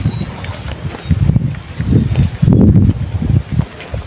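Strong wind buffets the microphone in loud low rumbling gusts, rising and falling with a few rustles over about four seconds.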